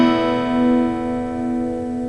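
A guitar fitted with a shortcut partial capo sounds one open strum, the chord ringing out steadily and sustaining close and loud for about two seconds.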